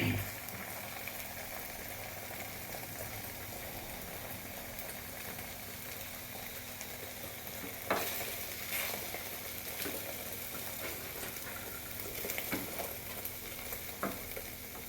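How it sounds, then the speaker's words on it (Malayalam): An egg fries in hot coconut oil for an omelette, a steady close sizzle and crackle throughout with a few sharper pops and stirring scrapes, and no talking. "വെളിച്ചെണ്ണ ചൂടാകുമ്പോൾ മുട്ട ഇതിലേക്ക് ഇട്ട് കൊടുക്കാം."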